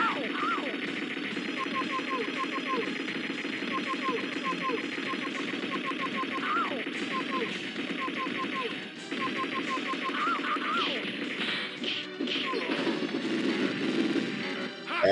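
Rapid repeated gunfire from weapons picked up in The Punisher arcade beat-'em-up game, bursts of crackling shots layered over constant game music and effects, loud and dense from start to finish.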